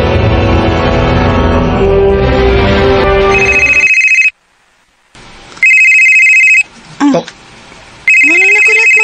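A cellphone rings loudly in bursts of a steady electronic tone, cutting in after a stretch of noisy talk and music, with brief gaps of near silence and a short voice between rings.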